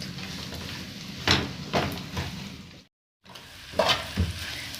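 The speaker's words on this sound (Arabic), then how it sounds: "هقلب في دي تمام يا حبايبي لغايه ما تستوي معايا الكبده" Liver and chicken gizzards fry with onions in a pan, a steady sizzle broken by several stirring scrapes and a brief silent gap.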